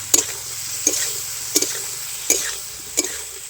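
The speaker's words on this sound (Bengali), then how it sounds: "এবার ভেজে রাখা আলু আর পনির দিয়ে দিচ্ছি। এইভাবে কিছুক্ষণ আমি নেড়ে নেব" Fried potato and paneer are stirred into a gravy in a pan. Five evenly spaced scraping strokes sound close over a soft, low sizzle, with no voices.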